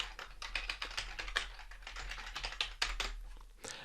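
Rapid clicking of a computer keyboard as an email address is typed in, a close, steady run of keystrokes with a brief pause near the end and no talk.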